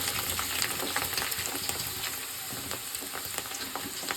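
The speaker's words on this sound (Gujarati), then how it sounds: "હવે આપણે તરવાના છે ભૂંગળા" Bhungla, a Gujarati fried snack for pav bhaji, sizzling in hot oil, a steady dense crackle with scattered pops and bubbling throughout, close and fairly loud, no voices.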